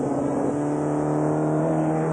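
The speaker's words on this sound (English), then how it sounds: "Formula Junior, newest and one of the most exciting forms of automobile racing." Formula Junior single-seater race car engine, a loud, steady, close drone with strong tonal harmonics, briefly rising in pitch early on before holding constant.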